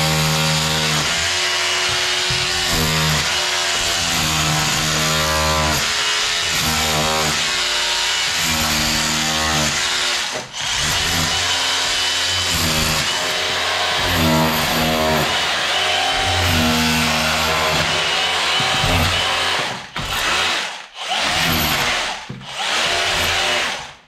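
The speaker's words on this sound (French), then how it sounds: "Forcément, je mets le burineur." A Bosch GBH 18V-21 cordless rotary hammer in chisel mode chips plaster off a wall, hammering loud and steady for a long stretch with a few short pauses near the end.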